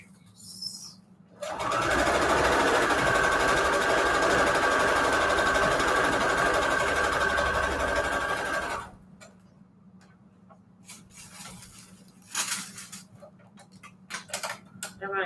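A sewing machine runs steadily for several seconds while a strip is stitched onto string quilt patchwork, then stops, leaving faint handling clicks and rustles nearby.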